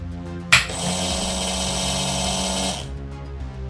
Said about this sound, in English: Now that I've confirmed that we can control the drill motor from our PC